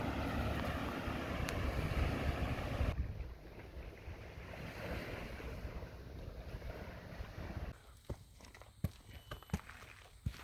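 Surf and wind wash steadily over secluded Pantai Karachut Beach in Penang, a continuous roar of waves with gusts buffeting the microphone, easing toward the end where a few sharp taps and footstep-like knocks break through.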